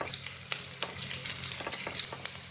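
Onion and ginger garlic paste fry in a pan for egg fried rice, giving a soft steady sizzle with scattered crackles and light stirring scrapes, close and quiet, with no talking.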